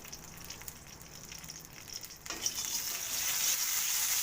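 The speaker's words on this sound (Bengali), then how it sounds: "পাঁচ ফোড়নটা দিয়ে ভাজা ভাজা হবে" Panch phoron spices crackle and sizzle in a little mustard oil in a kadai, starting soft and then swelling into a louder, steady frying hiss partway through.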